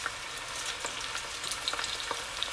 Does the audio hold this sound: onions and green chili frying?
yes